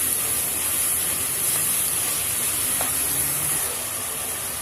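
Steady sizzling and hissing of chicken frying in hot oil over high heat, a constant bright crackle with faint occasional pops, no voices.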